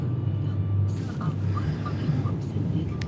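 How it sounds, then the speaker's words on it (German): A car engine hums and rumbles steadily from close by as it picks up speed, with a voice speaking over it. "ich muss jetzt mal hier fahren, ein bisschen Gas geben"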